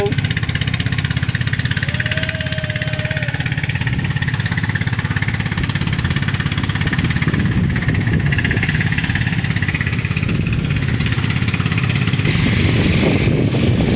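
A motorboat from Triple P running on the Moramo river, its engine holding a steady mid-pitched drone throughout, fairly close, with a faint voice briefly in the background.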